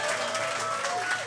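Live audience at a Pathfinder tabletop game show in Ann Arbor bursts into steady applause and cheering after a dice roll, a dense wash of clapping that holds for the whole moment.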